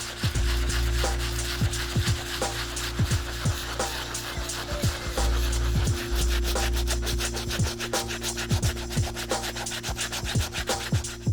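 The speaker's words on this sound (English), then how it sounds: "I'm going to be using our Rejuvenator solution and the bristle brush." Stiff bristle brush scrubbing the sole of an Air Jordan 5 "Grape" sneaker with cleaning solution, a continuous close-up rasping rub in quick repeated strokes with no talking.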